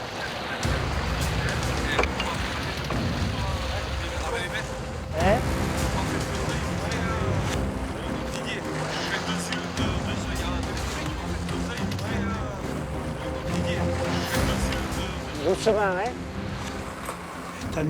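A steady, loud engine drone from an all-weather lifeboat towing a swamped boat runs throughout, with water wash, wind buffeting the microphone and occasional creaks or strains.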